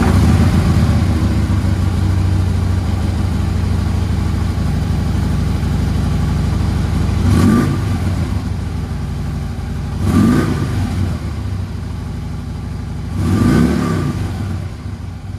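A 2015 Harley-Davidson Street Glide Special motorcycle engine idles with a loud, steady low rumble, broken by three sharp throttle revs spaced a few seconds apart, recorded up close with no talking.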